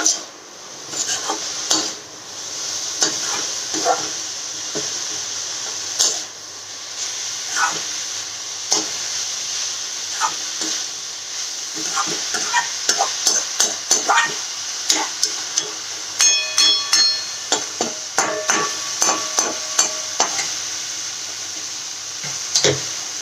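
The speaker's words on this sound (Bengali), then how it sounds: "এটা এবার আমি ভালো করে আবার মিশিয়ে দিই" Radish greens with chillies and ground coriander stirred in a pan, with irregular scraping and clinking of a spatula against metal over a soft sizzle, the strokes growing quicker and sharper toward the end.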